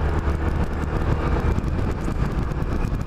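A Yamaha Majesty scooter with reworked CVT on the move, heard as a steady rumble of engine and road noise buried under constant, close wind buffeting on the microphone.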